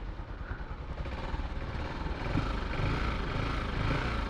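A stock TMX 125 Alpha motorcycle engine runs steadily at a low, rumbling idle, faint and continuous with a slight rise in level partway through.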